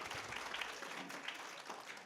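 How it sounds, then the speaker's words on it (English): Quiet audience applause at a museum lecture in the Master Series, a brief patter of clapping from a seated crowd, faint and somewhat distant. "So please, round of applause."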